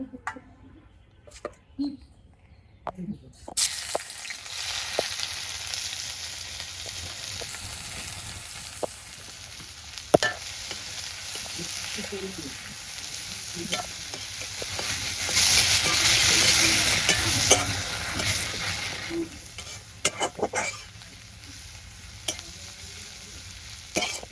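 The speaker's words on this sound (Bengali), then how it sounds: "এখন আমি তেল গরম হচ্ছে, পেঁয়াজ কুচি দিয়ে দেই" Chopped onion frying in hot mustard oil in a wok, a steady broadband sizzle with stirring clatter that swells louder midway, continuing throughout after a quiet opening.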